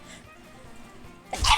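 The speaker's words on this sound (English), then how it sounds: "that was the sneeze of the century" A single loud, abrupt human sneeze bursts out near the end after a quiet indoor stretch, close to the microphone.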